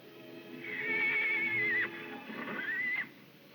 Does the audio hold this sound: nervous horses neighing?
yes